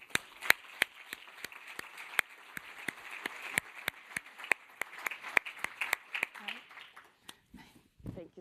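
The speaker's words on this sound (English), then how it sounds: "please give a warm applause to Gael Thalmann" Scattered, sharp individual claps ring out at a football draw event for Gael Thalmann. The claps are spaced and irregular rather than a dense ovation, and they thin out toward the end.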